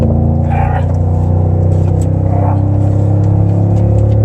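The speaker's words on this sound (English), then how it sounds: "This has dual exhaust. It's a TRD exhaust, and it is one of the best sounding factory trucks you can get." A 2019 Toyota Tundra TRD Pro truck with TRD dual exhaust idles and revs with a deep, loud, steady rumble, swelling briefly in two short surges, heard up close in open country east of Denver.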